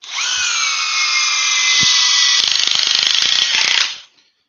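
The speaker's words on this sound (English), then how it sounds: "So I can tell you the Dewalt began impacting first." Two cordless impact wrenches, one a DeWalt, whine loudly together at high speed, then break into a rapid rattling hammer of impacts near the end before cutting off abruptly.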